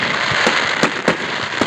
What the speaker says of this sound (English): Y'all can see these fireworks.